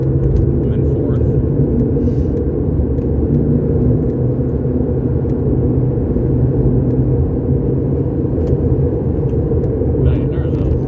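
A car engine drones steadily while driving in fourth gear in traffic, a loud close interior rumble and whir running continuously throughout.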